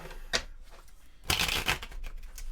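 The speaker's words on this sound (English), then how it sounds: "And I butchered that shuffle." A deck of board game cards is riffle-shuffled with a papery flutter, followed by a louder, longer riffle and the rustle of squaring the cards.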